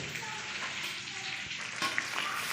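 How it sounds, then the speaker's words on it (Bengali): Magur catfish sizzles in hot oil in a pan, giving a soft continuous crackle and hiss with faint spatters, heard close and fairly quiet. "এখন মাছ আমাদের ভাজা হচ্ছে"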